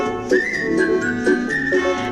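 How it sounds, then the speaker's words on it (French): Someone whistles a cheerful tune in short, bright melodic phrases, clear and close, with a little accompaniment underneath and no speech. "Sifflez un air joyeux."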